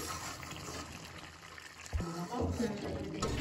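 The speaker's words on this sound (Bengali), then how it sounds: "আমি এখানে উষ্ণ গরম জল দিয়ে দিচ্ছি।" Warm water poured into a soybean and egg curry in a cooking pot, a steady close splashing trickle that thickens into louder gurgling toward the end, with someone talking over it.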